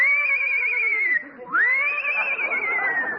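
A horse whinny sound effect in an old radio comedy show, a loud, shrill neigh that breaks off briefly and then rises again into a long, wavering whinny, heard alone and close.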